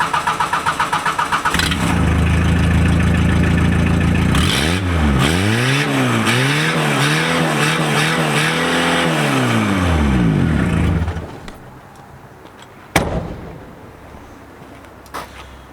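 Diesel car engine running rough and smoky, revved up loudly several times in rising and falling sweeps close by, then cut off, leaving a quiet tail with a couple of sharp knocks.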